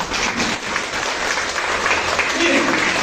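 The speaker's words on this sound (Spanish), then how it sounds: "Dale un aplauso al Señor entonces." A church congregation applauds steadily for about three seconds, a dense wash of clapping from many hands filling the room with no pauses.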